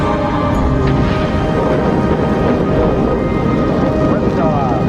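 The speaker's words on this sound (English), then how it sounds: "Liftoff on Apollo 11." The Apollo 11 Saturn V launch produces a continuous, heavy, rumbling roar at liftoff, loud and steady throughout with dense low-end noise and crackle.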